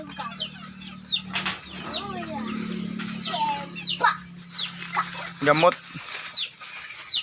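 Broiler chicks cheep in high, rapid, repeated peeps close by, mixed with clucking and a brief flutter of wings, while someone talks quietly over a low steady hum.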